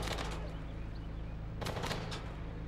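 A short burst of automatic gunfire rattles out in the WWII strategy game Gates of Hell, set in a Finnish–Soviet battle. It comes over a low steady rumble and sounds fairly quiet and distant.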